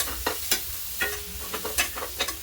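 Eggplant pieces frying with spices in a pan for a dry vegetable dish, with repeated scraping stirs every half second or so over a steady low sizzle, close and fairly quiet.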